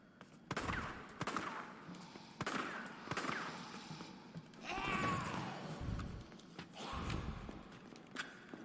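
Player gunfire in Resident Evil 3, several sharp, loud shots spaced irregularly a second or so apart, some in quick pairs, over a low rumbling game background.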